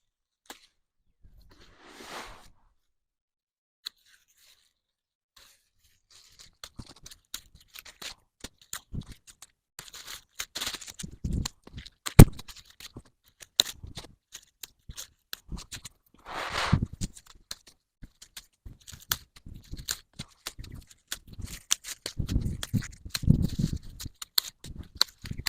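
Sharp, irregular snips of garden shears cutting off spent peony blooms outdoors during deadheading, scattered clicks and rustles at close range with pauses between bursts.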